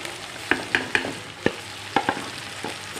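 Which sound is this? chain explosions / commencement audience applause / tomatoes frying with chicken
tomatoes frying with chicken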